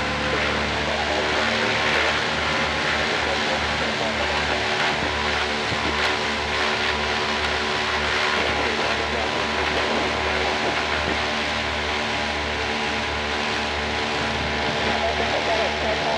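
Engines of a PBY Catalina WW2 seaplane running, a steady loud propeller drone heard from inside the aircraft, with crew voices talking over it.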